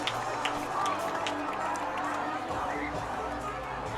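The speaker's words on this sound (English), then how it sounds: "got one of my mics out the window, so you're probably going to hear a lot of crowd noise" Crowd noise at a high school football game, Hector Wildcats at Bigelow, picked up through a mic out a window: a steady, fairly loud wash of distant voices and chatter, with occasional louder shouts rising from the murmur.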